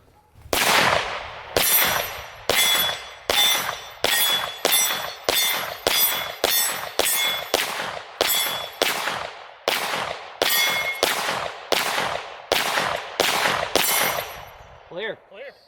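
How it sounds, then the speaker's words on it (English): A CZ Scorpion Evo 3 fires a 20-round magazine of 115-grain 9mm with a quick, steady cadence of loud, sharp, ringing reports, each followed by a brief echo, and a few faint sounds at the end. "let Johnny shoot it really fast and see how fast we can get through a 20 round magazine"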